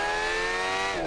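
A Ford Gr. 5 race car, a 500-horsepower all-wheel-drive machine in the BeamNG driving game, holds a high, buzzing rev near its 12,000 RPM limit, then dips slightly at the very end.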